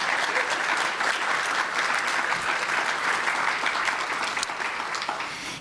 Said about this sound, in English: can I just have a round of applause for all of our presenters?